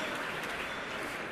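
Audience at a blog awards ceremony applauding, a dense and even patter of many hands clapping at moderate distance, steady and unbroken.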